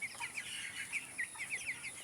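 Chickens on a raised slatted-floor poultry farm cluck in quick repeated bursts, a fairly faint, busy chorus of short calls with no talk.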